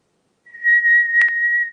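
A person whistles one sustained, clear high tone imitating the pitch of ringing ears, close and loud, lasting just over a second with a brief wavering in the middle.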